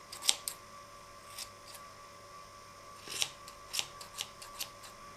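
Scissors snipping yarn to trim a handmade pompom: a few quiet, crisp metallic cuts in short clusters, close up, separated by near silence and a faint steady hum.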